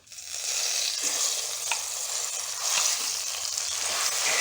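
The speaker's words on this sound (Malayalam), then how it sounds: "ഇനി നമ്മൾ അടിച്ചു വെച്ച അരപ്പ് ഇതിലോട്ട് ഇട്ട് കൊടുക്കാം" Ground masala paste goes into a restaurant-style fish curry pan and sizzles as a continuous, fairly loud hiss throughout, with small crackling spikes.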